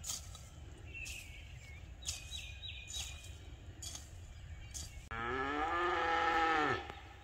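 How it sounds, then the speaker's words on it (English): Cows moo on a farm, a few short distant calls at first, then one long loud close moo near the end, over a quiet outdoor background. "Wait for the cows to finish."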